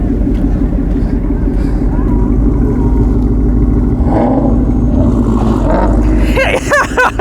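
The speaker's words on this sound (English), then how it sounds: "Do some revs, man." A loud Ford engine rumbles steadily throughout, its pitch rising and falling as it revs, with people talking over it.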